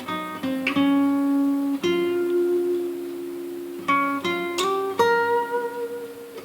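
Solo guitar plays the closing phrase of a solo, with a few plucked notes that ring out and slide between pitches, clear and close with long sustains.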